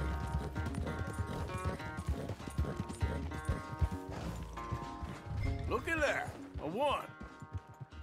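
Horse hooves clip-clopping at a gallop in Red Dead Redemption 2, steady and loud under game music, with voices talking over it and a horse whinnying briefly near the end.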